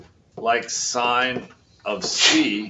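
A single sharp sneeze bursts out in a classroom near the end, right after a short spoken phrase about trigonometry.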